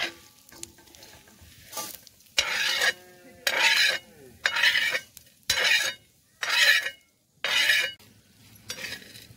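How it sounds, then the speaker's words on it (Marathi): Coriander seeds and red chilies dry-roasting for a masala in a pan, stirred in regular scraping bursts about once a second, each rasping sweep close and distinct with quiet gaps between. "मिरच्या बी अशा चांगल्या लालसर आपण भाजून घेत आहोत. खमंग असा मसाला आपण तयार करत आहोत"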